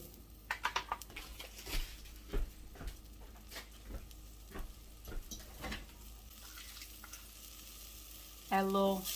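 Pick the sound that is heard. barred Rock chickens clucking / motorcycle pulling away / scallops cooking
scallops cooking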